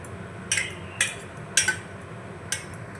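A spoon stirring melting soap base for homemade neem soap knocks against a metal pot, giving four sharp, spaced clinks over a quiet low hum.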